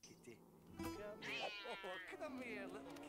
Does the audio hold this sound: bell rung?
no